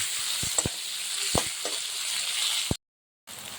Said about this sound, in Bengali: যখন এই পর্যায়ে পেঁয়াজটা আমার ভাজা ভাজা হয়েছে